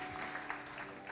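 Congregation applauding during a church sermon, a steady wash of clapping hands filling the room for a moment, with no talk heard above it.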